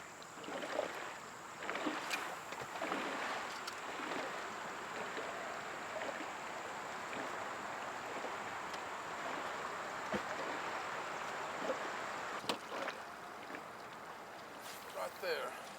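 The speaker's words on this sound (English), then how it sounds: "I'm setting a course with this trolling motor so it does all the work." An electric trolling motor runs on a fishing boat, a steady thin whine over a broad wash of water and some wind rumble. Occasional clicks and knocks from the boat break through.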